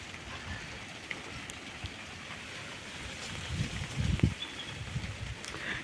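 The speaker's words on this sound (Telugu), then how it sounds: "వర్షం తడిసిపోతుంది." Rain falls steadily on a rooftop terrace garden, a faint, even wash of drops with a few heavier patters and thumps building briefly near the end.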